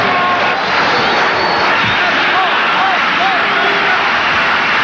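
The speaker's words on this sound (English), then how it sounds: "the crowd now get behind Natal" A large rugby stadium crowd roars steadily in support of Natal during a 1993 match against Transvaal, a loud, continuous wash of cheering and babble with a few whistles rising above it.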